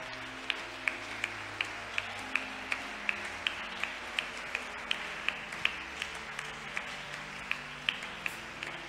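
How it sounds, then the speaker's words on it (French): A church congregation claps in a steady, even rhythm to acclaim the Lord, the sharp regular claps carrying over a low, sustained background of music and crowd. "est-ce qu'on peut acclamer le Seigneur?"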